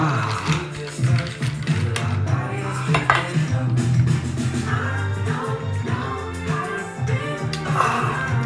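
A utensil stirring and scraping strawberry sorbet with mint in a dish, giving continuous clinking and scraping up close, with some background voices and kitchen noise.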